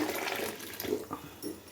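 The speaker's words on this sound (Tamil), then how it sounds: "சுடு தண்ணி ஊற்றிட்டு" Hot water poured into biryani rice in a cooking pot, a continuous splashing gush that is loud at first, then eases off in short bursts, close by with no talk.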